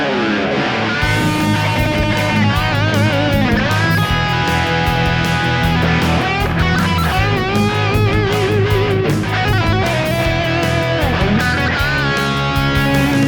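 An E-series Squier Japan Telecaster electric guitar with newly fitted pickups, played loud and dense in a full strummed and picked passage, with a steady ringing tone throughout and no talk.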